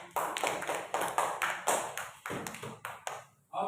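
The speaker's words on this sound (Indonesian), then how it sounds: "Tepuk tangan sekali lagi anak-anak." Children in a classroom clap their hands in a fast, rhythmic burst of crisp claps lasting a few seconds, close and fairly even, ending abruptly.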